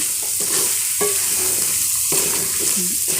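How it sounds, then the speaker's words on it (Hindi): Beef korma meat and spices being stirred and fried in a pot, with a steady close sizzle and repeated scraping stirs throughout, no voices. "2 से 3 मिनट तक मैं थोड़ा सा पानी लगा कर मैं भून लूँगी"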